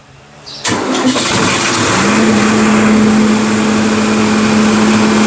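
A tractor engine cranks over with a manual push-button start and catches almost at once, settling into a loud, steady, close idle with a sustained hum running through it for the rest of the moment.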